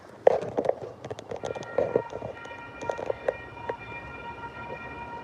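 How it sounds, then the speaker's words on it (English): Sacramento public transportation train passing on the street, with irregular clacking and knocking from the rails and a faint tonal whine behind it. "public transportation train of Sacramento"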